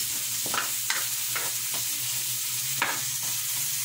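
Ground pork sizzles steadily in a pan for spaghetti, a constant frying hiss broken by several sharp scrapes and stirs of a utensil at irregular intervals, with no voices.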